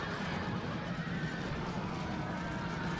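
Cavalry horses in the modded strategy game Rome Total War, caught up against pikemen, heard as a dense, continuous battle roar of hooves and clashing units, loud and unbroken throughout.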